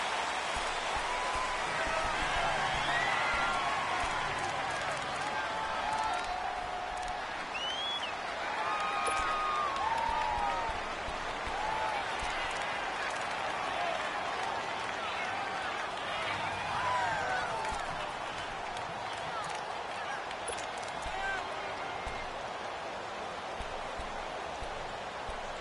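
A football stadium crowd at a Steelers at Buccaneers game keeps up a dense, continuous roar for the whole stretch, with a commentator talking over it.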